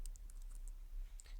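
Mouse clicks in a game editor while adding the player to a group, a few sharp light clicks spread over a quiet background with no talk.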